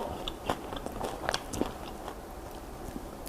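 Someone bites into crispy fried cashew chicken with chilli and sauce, making a few close, crisp crunches followed by soft chewing, quiet and with no speech.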